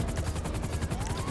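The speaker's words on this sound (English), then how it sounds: "I was shooting Casper the Friendly Ghost." Dense, rapid automatic gunfire from a GTA 5 Online firefight during a salvage yard mission, loud and continuous with rhythmic bursts throughout.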